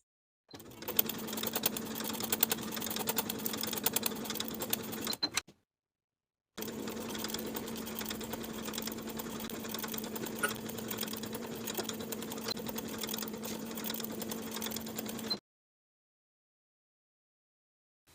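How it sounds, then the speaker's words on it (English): Sewing machine running basting stitches along the raw outer edges of a pants pocket, two steady runs of rapid rhythmic needle thumping, about five and nine seconds long, separated by a short pause. "We're going to sew basting stitches along the outer raw edges just to hold that edge in place."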